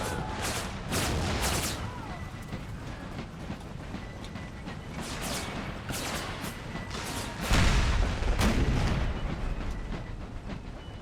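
Ordnance rifle artillery in an Empire: Total War battle, with a mod set among Confederate forces, booms out as repeated cannon shots over a continuous rumble of battlefield noise. A heavier blast comes near the end.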